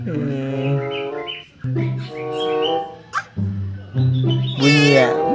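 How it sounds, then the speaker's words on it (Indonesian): A sick white pet cat makes drawn-out, wavering meows close by, several in a row, overlapping with people talking softly nearby. "Bunyi ya, meow meow."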